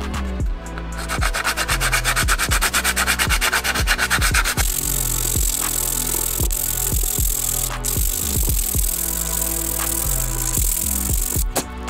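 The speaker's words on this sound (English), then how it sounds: "Then we're gonna take sandpaper and just sand it because it's raised." Hand sanding of a taped-off, painted brake caliper with sandpaper, a loud continuous back-and-forth rubbing with steady strokes, close up and alone without talk.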